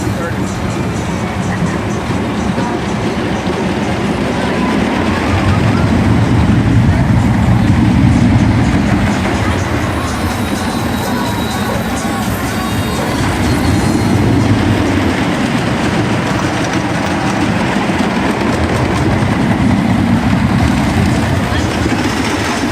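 A roller coaster train at Kennywood amusement park rumbles and clatters along its track, a loud continuous roar with rhythmic clacking that swells midway, and riders can be heard faintly over it.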